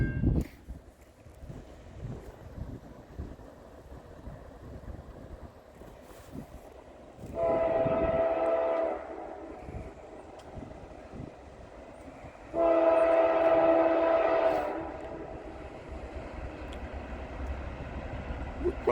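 A westbound Norfolk Southern freight train at Stow Road in Hudson, Ohio, sounds two long, loud horn blasts separated by a short gap, over a low rumble of the approaching train and light wind.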